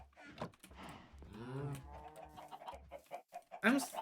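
Chickens on a farm in a block-building video game cluck in short bursts beneath a person talking.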